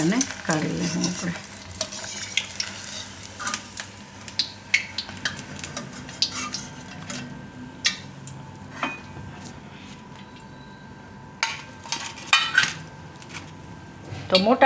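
Papad frying in hot oil in a pan, a soft continuous sizzle punctuated by close clinks and scrapes of a utensil against the pan, fairly quiet overall.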